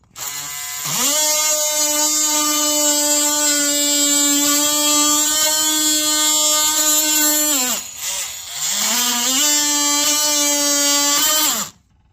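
An oscillating tool cuts into trim during a radio install in a 1995-2007 Chevy Silverado, a loud steady high-pitched buzz that stops briefly around the middle, then resumes before cutting off.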